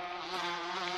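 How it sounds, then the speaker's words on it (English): Bees swarming out of a beehive in the video game Gorilla Tag make a steady, close, high-pitched insect buzz with a wavering tone, heard alone for about a second. "they will actually squirt bees out"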